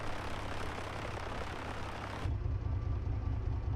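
The engine of an A2A Comanche 250 PA24 in Microsoft Flight Simulator 2024 runs with a steady, loud droning hum that deepens and thickens partway through, with no talk over it.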